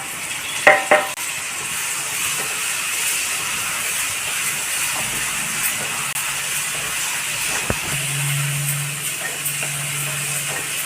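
Tomatoes cook in a pan of turkey berry curry, giving a steady sizzle and hiss. A couple of sharp clinks come near the start, and a low hum enters later.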